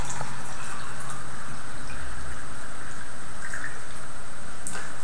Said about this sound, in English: I'll just pour this liquid into here.